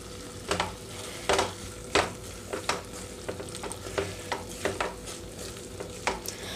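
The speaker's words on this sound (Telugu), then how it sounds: "కొంచెం కొత్తిమీరని యాడ్ చేస్తున్నానండి." Cucumber and tomato chutney fries in a pan with coriander stirred in, a steady close sizzle broken by frequent sharp scraping strokes of a spatula at an uneven rhythm.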